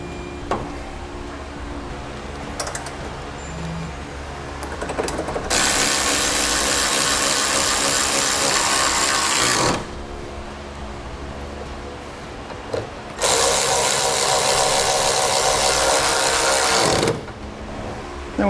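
A power tool runs in two long, loud bursts of several seconds each, tightening bolts on a Blue Ox base plate kit mounted to a 2007 GMC Sierra, with quieter clicks and handling sounds between the runs.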